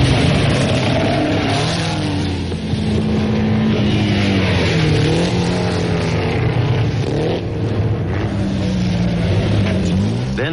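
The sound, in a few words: vintage race cars, Delage and Peugeots, racing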